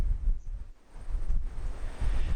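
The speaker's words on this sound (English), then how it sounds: "As you can see, it's windy though" Gusty wind over 50 km/h buffets the microphone outdoors on a farm among beehives, a steady low rumble that swells and dips in waves without speech.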